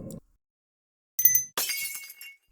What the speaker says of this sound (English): The window appears to shatter as a figure leaps through